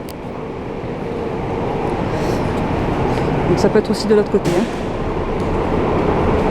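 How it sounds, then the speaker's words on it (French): A metro train pulls into Hatchobori station in Tokyo: a steady, loud rolling rumble with brief squeals as it arrives and slows, while someone talks over it in French. "là on entend un métro arriver"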